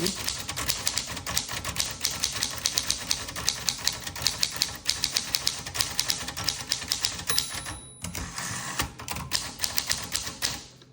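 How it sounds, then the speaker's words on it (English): Rapid clacking of a Corona manual typewriter's keys strikes in uneven bursts, close and crisp, with a brief pause and a bell-like ding before typing resumes. "I love this typewriter so much"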